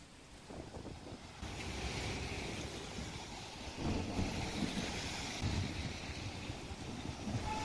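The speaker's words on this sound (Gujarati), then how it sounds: "પવન સાથે ધીમી ધારે વરસાદનું આગમન થયું છે।" Light monsoon rain falls with gusting wind in rural Amreli, Gujarat. A broad, rushing roar rises and falls in surges, with wind buffeting the microphone and no voices.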